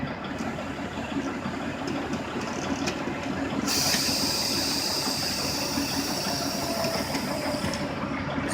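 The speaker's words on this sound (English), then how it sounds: "So now our parking brake has been released." A truck's air brake system releases its parking brake: a steady, loud hiss of escaping air starts suddenly partway through and keeps going to the end over a low engine rumble.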